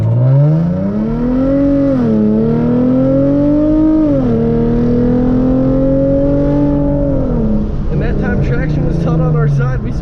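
A Hyundai Genesis Coupe 3.8 accelerates hard with traction control off, its engine note climbing steadily through gear changes in a loud, continuous drone heard from inside the car, with brief squeaks near the end.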